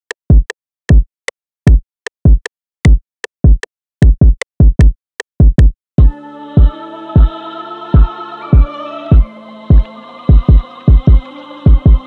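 A muffled, low-pass filtered kick drum thumping in a steady rhythm, alone at first, then joined by a sustained synth chord underneath.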